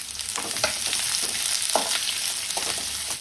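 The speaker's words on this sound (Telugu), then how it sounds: "ఇప్పుడు ఉల్లిగడ్డ ఒకసారి కలుపుకుందాం" Onion sizzles steadily in a pan of hot oil while a spoon stirs it in repeated short scrapes, close and fairly loud with no talking.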